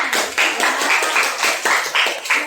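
A group claps in a steady, rhythmic beat after a school performance, the claps loud and close, falling in regular pulses of about three per second with no talking.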